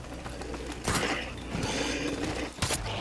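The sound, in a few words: reloading a gun in video game Advanced Warfare Zombies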